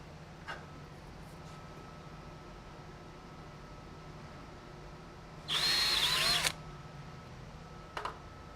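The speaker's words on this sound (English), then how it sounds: "I need to pre-drill a hole within the first 12 inches or so toward the bottom of the panel" A power drill briefly whirs for about a second while pre-drilling a hole near the bottom of a siding panel, loud and close against a quiet background, with a couple of faint clicks afterward.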